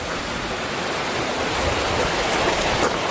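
Waterfalls in Gold Strike Canyon rushing in a steady, even roar of falling water, close and continuous, with no voices.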